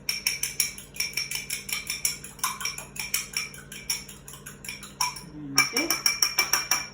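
A fork clinks and scrapes rhythmically against a mixing bowl while mixing Easter biscuit dough, a quick series of bright metallic taps with a brief pause near the end.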